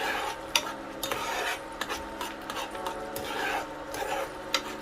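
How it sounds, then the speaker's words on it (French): A spoon scrapes and stirs fish and attieke cooking with shrimp powder in a pot, giving repeated rubbing and clinking strokes with sharp metallic taps and a faint sizzle underneath, close and without talk. "On remue bien le tout, hein."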